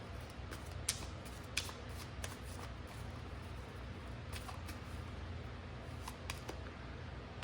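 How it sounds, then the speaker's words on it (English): Tarot cards are shuffled and pulled from the deck, giving soft, faint riffling with scattered crisp flicks and snaps over a quiet room. "So let's pull some more cards and see if there's anything else."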